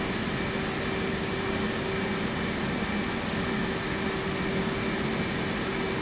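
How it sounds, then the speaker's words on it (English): F/A-18C Hornet left engine cranking in a flight simulator game, a steady loud whining roar with a constant tonal hum and no change across the stretch. "Now it is time to crank the left engine."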